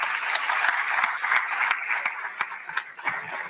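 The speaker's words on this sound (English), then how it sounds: "Please give them a round of applause." Applause from an audience at a gubernatorial debate town hall held on a community college campus, a steady, moderately loud wash of clapping with a few sharper individual claps standing out.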